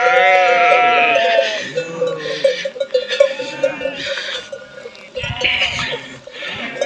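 Several sheep and lambs bleat loudly and repeatedly, overlapping calls from a nearby flock, with faint clanking in the background.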